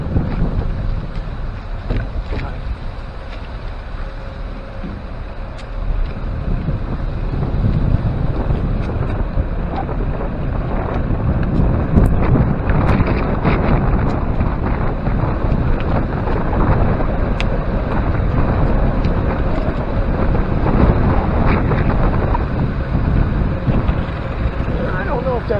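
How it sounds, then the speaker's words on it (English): Wind gusts buffeting the microphone on a bike ride along the Black River Trail in Lorain Metro Park: continuous loud, rough rumbling that rises and falls in surges for the whole stretch. "still you'll get hit with these gusts"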